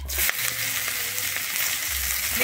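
Chopped onion goes into hot oil with asafoetida in a pan for a Bengali masala cauliflower and peas dish, a sharp crackle at the drop settling into a steady close sizzle.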